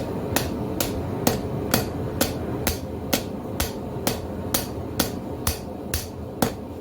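A blacksmith hammers steel flat on an anvil while forging a herb chopper: fifteen sharp, ringing strikes at a steady, even pace, loud and close with no talk.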